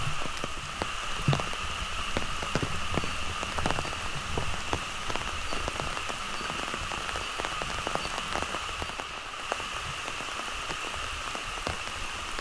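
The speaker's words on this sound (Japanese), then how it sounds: "雨ですけど" Rain falls steadily on a day trip in Cambodia, a dense continuous patter on surfaces with close drips ticking throughout and no talk over it.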